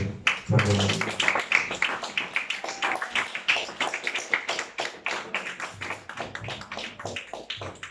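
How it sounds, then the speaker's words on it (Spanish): A church congregation claps during a service, producing a loud run of rhythmic handclaps that continues throughout, with a few faint voices mixed in. "Vamos a darle un fuerte aplauso."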